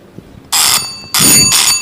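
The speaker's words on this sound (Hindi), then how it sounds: "फिर घंटी बज रही है डाकिया की। ट्रिन ट्रिन बजी है फिर से।" Two bursts of a ringing bicycle-style bell, like a postman's bell, sound loud and close, the first short and the second longer with a brief stutter, with no speech.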